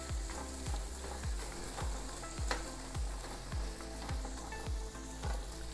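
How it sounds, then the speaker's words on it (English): Ground meat and Italian sausage sauteing in a hot pan, loud steady sizzling with a regular rhythm of scraping stirs roughly every half second, close and alone without talk. "now we're gonna saute our meat"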